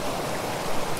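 A small waterfall rushes steadily beside a bass-fishing stream, a close, constant broadband splashing roar with no talking.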